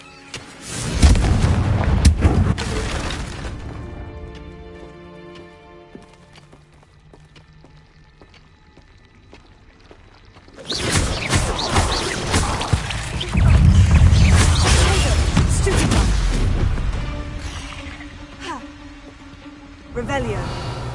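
Spell explosions from Bombarda and Confringo in Hogwarts Legacy on PS4: loud booming blasts in bursts near the start and again after a quiet stretch, with a voice talking over the game audio.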